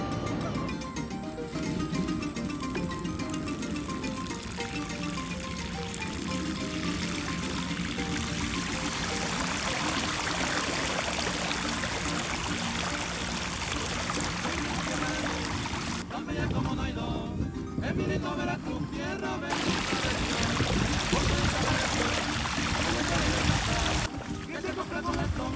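Floodwater pours across a normally asphalt road in Vega, with a continuous rushing and trickling wash. A person talks over the water throughout.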